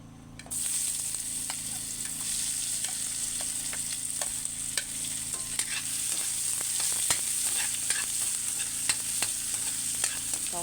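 Ginger sautéing in a pan with leftover fat and oil while chicken tinola is cooked: a steady, bright sizzle runs throughout, broken by frequent small clicks and scrapes of stirring, with no one talking.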